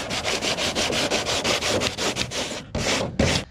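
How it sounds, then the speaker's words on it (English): Bondo body filler on a car body kit is sanded by hand with rapid, rhythmic back-and-forth scraping strokes up close, ending in a few slower separate strokes. "Just sand the shit out of it."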